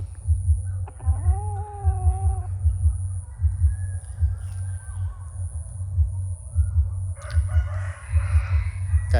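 A fighting rooster of the Lao/Thai Sai Man game-fowl line crows once in a long, wavering call near the start, with bird calls and chirps behind it over a steady low rumble of background noise.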